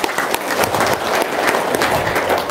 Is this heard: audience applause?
yes